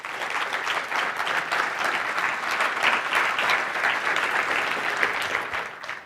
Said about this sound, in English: let's just put a round of applause again for our partners.